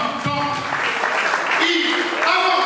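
An audience claps steadily and loudly for a few seconds, with voices mixed into the applause.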